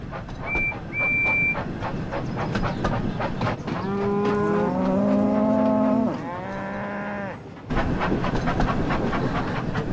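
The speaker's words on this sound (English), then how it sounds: "Please move out of the way, you silly cows." In the train game Thomas and Friends: Wonders of Sodor, cows moo several times, with long, drawn-out calls that overlap against a steady background of rumbling engine noise.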